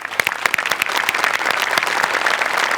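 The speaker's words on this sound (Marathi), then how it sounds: "एकदा जोरदार टाळ्या" Loud, dense clapping from a studio audience at a Marathi comedy show, many hands at once, close and sustained, with no talk over it.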